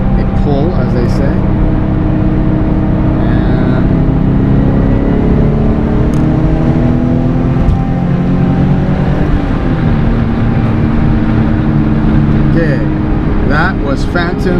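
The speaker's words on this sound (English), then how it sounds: "Take it down to 4th gear and try and do a pull" A Scion FR-S fitted with an electric supercharger accelerates in 4th gear, its loud engine droning steadily in cabin as the rising whine climbs over the run, with someone talking over it.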